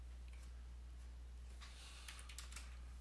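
A few quick keystrokes on a computer keyboard while working in AutoCAD, faint soft clicks in a short burst over a low steady hum, with no one speaking.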